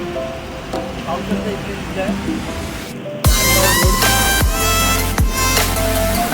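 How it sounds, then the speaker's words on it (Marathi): Rain falls at a railway station platform, a steady broadband hiss through the first half before louder, busier station noise with tonal sounds and low thumps takes over, with voices in the background. "आणि पाऊस पडतो बघा"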